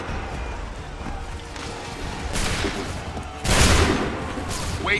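Musket volleys in Assassin's Creed III at Lexington: crackling, scattered shots over a murky background, swelling into a louder burst of fire near the end.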